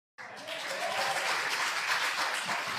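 Audience applause rises suddenly from silence into a steady wash of many hands clapping at moderate distance, sustained to the end.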